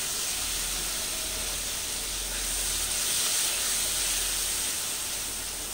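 Tomato paste for a paneer masala sizzles and hisses steadily in a hot pan, a dense close frying noise that swells slightly midway.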